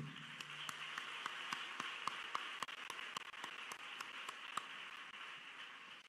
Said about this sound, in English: Give the Lord Jesus Christ a great big hand clap.